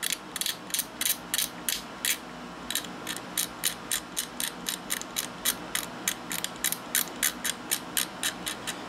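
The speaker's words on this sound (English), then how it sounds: "I'll take a chisel knife and just scrape it" A chisel knife scrapes inside the hood shell of a Kato GP35 model locomotive in quick, regular strokes, each a sharp rasping burst repeated over twenty times in an even rhythm, close and crisp against a quiet room.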